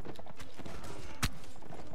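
Horse hooves in the video game Mount & Blade: Warband clip-clop in a quick, uneven rhythm, with one sharper impact standing out midway.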